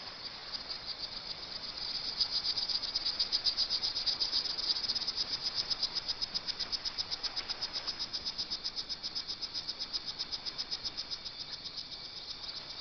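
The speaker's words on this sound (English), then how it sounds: "The male interrupts its trilling call only to attack any rivals" A male strawberry poison dart frog in the Bocas del Toro Islands off Panama gives a long, high, rapidly pulsing insect-like trill, steady and close, with no other sounds around it.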